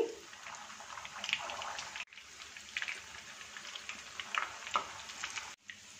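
Kebabs shallow frying in hot oil heated at medium heat, a steady close crackling sizzle with bright popping spatters throughout, briefly cut off twice.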